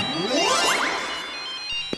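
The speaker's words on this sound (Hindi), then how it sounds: "ये डॉक्टर झटका का फोन यहाँ कैसे आया?" An electronic phone ringtone in a Motu Patlu cartoon plays a rising, chirpy melody of repeated tones, fairly loud and close, then fades out near the end with a brief click.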